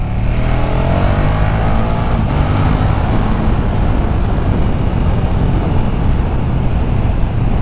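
A 2019 KTM Super Duke 1290 GT motorcycle engine under way, a loud continuous deep drone with rising revs and wind rush, close and sustained for the whole stretch without talk.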